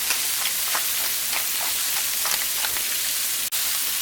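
Onions frying in a pan with salt and cracked black pepper, a steady close sizzle and hiss with faint crackles throughout.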